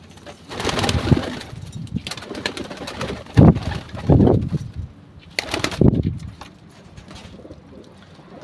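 Pigeons coo repeatedly in a home loft, several birds giving soft, throaty calls in irregular bursts that rise and fade, fairly close, with no talk over them.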